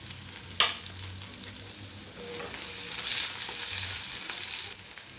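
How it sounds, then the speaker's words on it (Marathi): Onion and garlic sauté in a pan for a Maharashtrian veg anda curry, giving a steady close frying hiss with occasional clinks and scrapes from stirring, and no voices. "कांदा परतत असतानाच यामध्ये काजू, थोडीशी गोडंबी हे टाकून घ्यायची आणि छान परतून घ्यायचं।"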